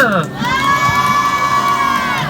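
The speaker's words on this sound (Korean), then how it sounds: "박수 한 번만 크게 주세요." A performance audience cheers and whoops loudly, high voices shouting over a crowd roar that holds steady for a couple of seconds.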